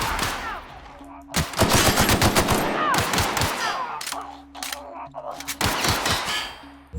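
Bursts of rapid automatic gunfire in the sci-fi video game The Outer Worlds, loud volleys of clustered shots with brief pauses and renewed firing, set against a low steady game ambience.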